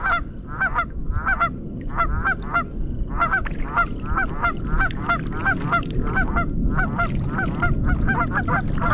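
Geese honk repeatedly in a rapid, busy chorus over a steady rumble of wind or water, heard from a kayak on the Provo River. The calls come thick and close, with no talking.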